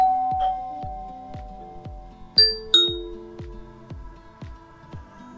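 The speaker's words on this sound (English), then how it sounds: "when someone presses the doorbell" An Amazon Echo Show alert for a Google Nest Doorbell press rings out in clear bright chime tones over a steady pulsing tone pattern, close and clean with no talking.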